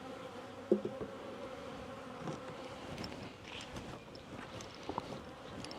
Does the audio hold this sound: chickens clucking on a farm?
no